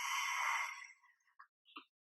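During a mat yoga class, a single forceful breathy exhale for a fire-breathing dragon pose rushes out loudly for under a second, then trails off, followed by a few faint soft sounds.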